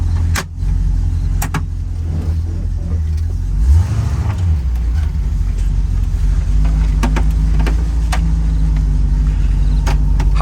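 A 1984 C4 Corvette with a modified exhaust drives around the block, its engine a steady, deep drone from inside the car, briefly rising in a rev before settling back to a constant rumble.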